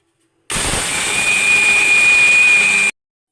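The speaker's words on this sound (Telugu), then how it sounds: "ఇప్పుడు మిక్సీకి వేసుకుందాం." A kitchen mixer grinder whirs steadily for a couple of seconds as it grinds peanut chutney with tamarind and a little water. The sound is loud, continuous and hissing, with a thin high whine, then stops abruptly.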